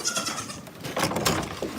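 Several goats bleating close by on a goat farm, overlapping high nasal calls in quick succession, with a crowded, busy feel.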